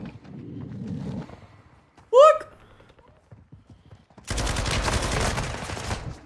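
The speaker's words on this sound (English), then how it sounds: "Oh, I'm getting sniped from somewhere." Sniper gunfire crackles in an online shooter video game, with a short tonal blast followed by a dense, loud burst of shots near the end, among quieter in-game noise while a player talks.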